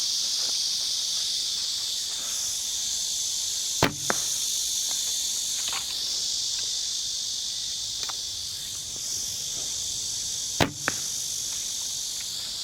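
A carbon arrow with natural feather fletching is shot twice, each release a sharp, brief snap and whoosh standing out against a loud, continuous outdoor chorus of cicadas.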